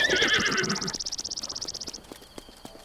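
A horse in The Legend of Zelda: Breath of the Wild whinnies loudly in a long, shaky neigh, followed by a few soft clip-clop hoofbeats, with a faint insect-like trill in the background.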